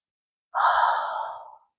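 A single long, steady breath out, close and clear, is taken during a yoga stretch in a desk-break routine. It starts abruptly, then slowly fades over about a second in an otherwise silent setting.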